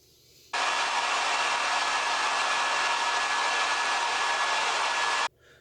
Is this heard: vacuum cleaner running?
yes